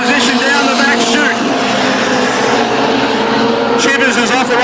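Junior sedan race cars roar around Redline Raceway in a steady, loud blend of engine noise, heard under continuous race commentary.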